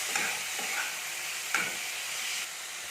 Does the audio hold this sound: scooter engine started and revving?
no